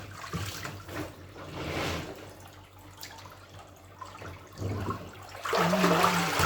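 Water sloshes and splashes as laundry is rinsed by hand in a basin, a steady close wet churning with louder splashing bursts near the start and end, no talking.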